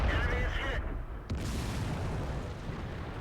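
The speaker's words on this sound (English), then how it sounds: "Artillery's still trying to get him." Artillery fire in World of Tanks: a heavy, booming blast fills the start and is cut off sharply, then a second thump follows, leaving a rumbling battle backdrop.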